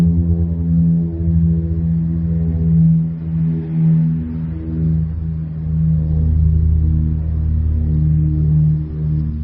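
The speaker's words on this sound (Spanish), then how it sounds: "Gracias a Álvaro Arias, este es el sonido de esa avioneta u avión, tosco y antiguo y de la Unión Soviética" Old Soviet light aircraft flying over a city, caught on a phone: a rough, droning engine hum with wavering low tones, steady and distant, gradually fading away.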